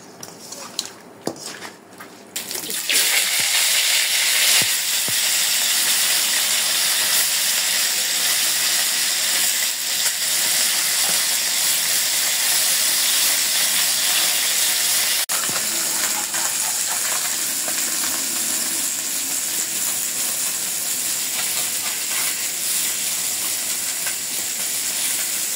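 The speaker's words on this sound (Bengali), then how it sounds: "মাছগুলো ভাজা হয়ে গেছে" Mixed river fish, including singhi, carp and puti rubbed with salt and turmeric, frying in oil: a steady, loud broadband hiss of sizzling that starts after a few seconds of clatter and carries on alone.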